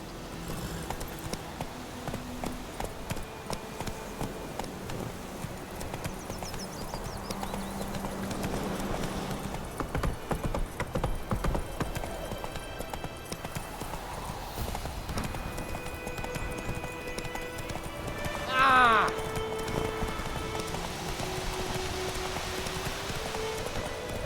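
Roach, the horse in The Witcher 3, gallops with steady rapid clip-clopping hooves under falling rain, a brief whinny-like sound rising partway through, over game ambience and music.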